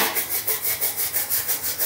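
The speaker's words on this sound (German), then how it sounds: "Vorm Schleifen mache ich das Ganze vorsichtig mit einer kleinen Messingbürste sauber." Rhythmic scrubbing of a small brass brush on thin aluminium sheet, about a dozen quick back-and-forth strokes, close and steady, with no voices.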